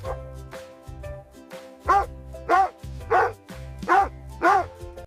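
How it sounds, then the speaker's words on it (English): A dog barks in a steady series of about five loud, close barks with short gaps between them, after some quieter whimpering at the start. "It's a dog."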